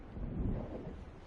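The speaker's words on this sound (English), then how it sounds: "It seems there's a storm coming." A low rumble of thunder from an approaching storm over waves in Alan Wake Remastered, a soft, distant roll swelling and fading within a second or so, with no other sound.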